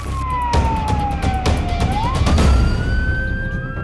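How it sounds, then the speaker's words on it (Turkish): A wailing fire engine siren sweeps down and back up in pitch, loud and fairly close, at night over steady traffic rumble with a few rhythmic clicks. "Gecenin sessizliğini siren sesleri bozuyor."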